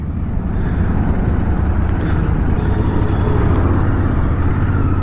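A Royal Enfield Interceptor 650 motorcycle at high speed, its steady, loud engine drone blending with heavy wind rush throughout, continuous with no pauses.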